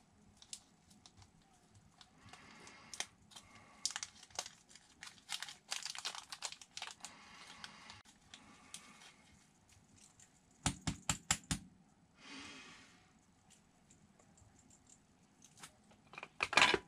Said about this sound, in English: I'm gonna go ahead and pull out this little screwdriver and I'm gonna screw these down